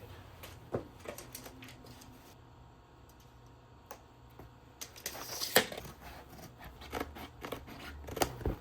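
Scissors cut slits into an adhesive couch corner protector, producing a series of close, crisp snips and crinkly material rustles, growing louder toward the end, with no talking.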